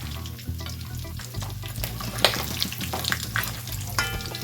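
A batch of turkey pieces for Haitian-style smothered turkey frying in a pan of oil: loud continuous sizzling and crackling up close, with clinks and scrapes as the pieces are moved.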